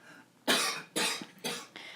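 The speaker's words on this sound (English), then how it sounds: "We're all coughing here." Three sharp, harsh coughs in a row, fairly close, each burst trailing off, followed by a softer fourth cough.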